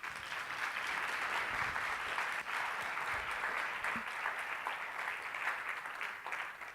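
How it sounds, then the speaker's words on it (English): A room full of listeners at a communication workshop breaks into even, continuous applause, moderately distant and steady from start to finish. "Give her a round of applause."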